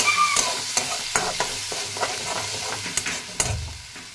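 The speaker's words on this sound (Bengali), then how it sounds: "আদা রসুনটাকে আমি কষে নেব।" Ginger and garlic with two green chilies being stir-fried in a pan: a soft, continuous sizzle under frequent quick spatula scrapes and taps, close and fairly loud.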